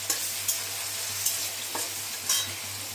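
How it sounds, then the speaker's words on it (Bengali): Diced potatoes fry in oil with turmeric and salt in a kadai, a steady close sizzle with a few brief scraping stirs spaced through it. "সামান্য পরিমাণ হলুদ আর নুন দিয়ে একটু আলুটা ভেজে নেব।"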